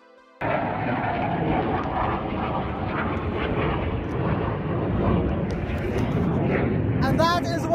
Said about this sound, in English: F-16s, I hear at least like 3 of them